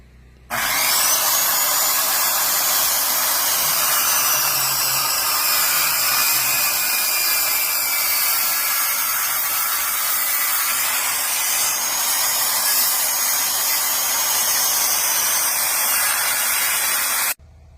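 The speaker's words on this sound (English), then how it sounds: "I need a couple cuts and then use the power saw to finish it off" A power saw cuts through logs on a wilderness log home build, a loud steady high-pitched whine that runs unbroken for about sixteen seconds.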